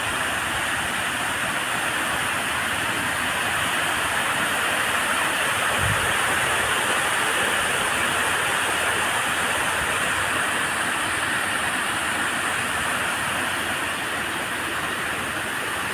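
Water overflows and rushes at Ghanteswari temple near Sambalpur, a loud steady roar of broadband torrent noise that holds unbroken throughout, with a brief low thump partway through.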